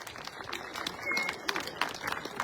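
Rally crowd at an outdoor campaign event in Dilijan, Armenia, breaking into scattered applause with mixed voices, the clapping fairly close and dense throughout with brief louder bursts.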